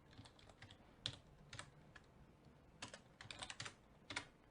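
Keystrokes on a computer keyboard come in quick irregular bursts with short pauses, close and fairly quiet, with no voices.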